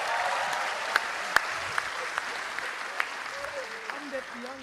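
Applause from a crowd at an Indonesian youth political rally for the 2024 election, a steady wash of clapping with a few sharper claps standing out, while a voice carries on speaking over it.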